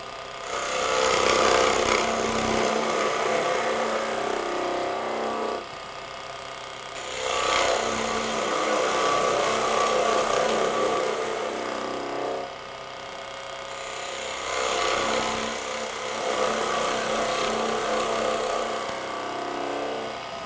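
A Robert Sorby TurnMaster cutter shear-scrapes wood on a spinning lathe, giving a loud, close, hissing rasp in three long passes with short pauses between them, and no voices.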